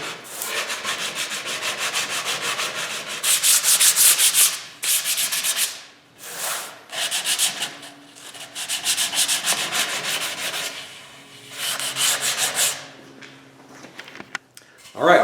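Hand sanding along the edges of a replica vintage Stratocaster guitar body with a sanding block, a close, steady scratchy rasp in long strokes with short pauses, sometimes lightly under voices.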